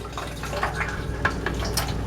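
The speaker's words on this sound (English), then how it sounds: "Okay, so my water is flushing." Tap water flushing through a new external refrigerator water filter into a container, a steady close running and filling sound with small splashy bursts, no talking.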